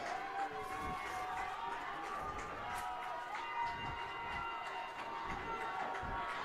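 A home crowd at a Merced College football game cheers and roars in a sustained wash of noise, with a commentator talking over it and rhythmic thumps underneath.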